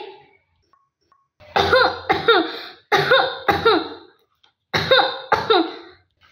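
A man coughs loudly and close by in three bursts, each a pair of harsh, hacking coughs separated by brief silences, during a school annual-day stage play.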